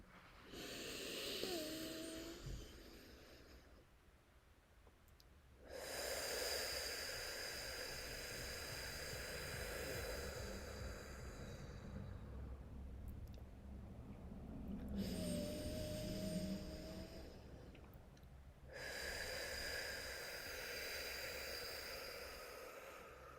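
Slow, deep breathing during a guided calming pause, with long airy inhales and exhales alternating with quiet gaps, close and steady, with no talking.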